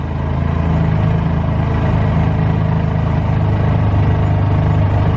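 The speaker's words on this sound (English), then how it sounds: "So you can hear the engine trying to die out a little bit." A 2019 Yamaha YXZ1000R engine labors at a crawl of about three miles an hour with the brake on, a loud, steady low drone that wavers unevenly as if close to stalling.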